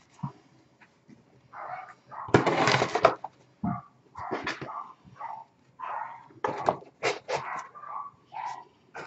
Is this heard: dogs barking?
yes